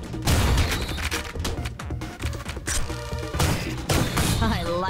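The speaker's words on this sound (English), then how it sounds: "I would say that's a grenade launcher." Grenade launcher in the shooter game Ion Fury firing repeatedly, a rapid series of loud thumping blasts and crashes mixed with game sounds, close and dense.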